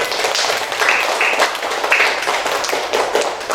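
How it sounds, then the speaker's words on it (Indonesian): Primary schoolchildren in a classroom clapping their hands in an uneven, scattered patter, with bright sharp claps close by and a few short high tones mixed in. "Tepuk tangan."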